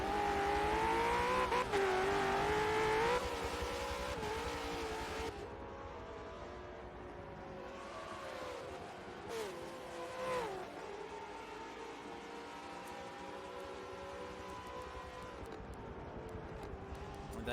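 V8 Supercars racing cars in a sim racing game at Road Atlanta braking hard into a corner, engines loud and droning with pitch dropping as they slow, one fading out while others continue, and a faint voice in the background.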